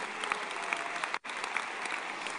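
Applause from a church congregation during a preacher's sermon, a dense, steady wash of clapping that breaks off for an instant partway through and then resumes at full strength, with no voices audible above it.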